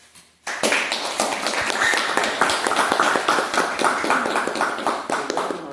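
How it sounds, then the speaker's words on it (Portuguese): An audience breaks into applause after a brief quiet moment, dense close clapping that stays loud and steady for several seconds. "Uma salva de palmas."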